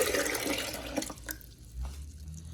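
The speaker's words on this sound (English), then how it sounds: "We're gonna add in, looks like, our 4 cups of water." Four cups of water poured into a blender jar, a rushing splashy pour in the first second and a half that tapers off to quieter trickles and faint drips.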